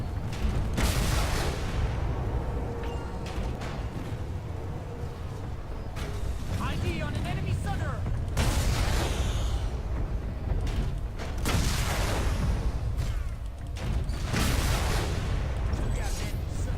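Cannon shots from the Halberd in a video game, a run of loud booming blasts with creaking mechanical noise, repeated across the stretch amid dense battle din.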